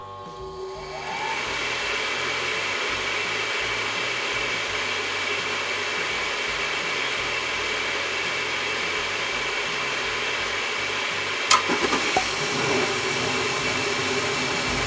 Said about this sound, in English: go ahead and turn the furnace back on and go test out your heat